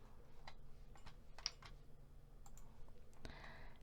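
Soft, sparse clicks sound at irregular intervals, close and quiet, like a computer mouse being clicked a few times.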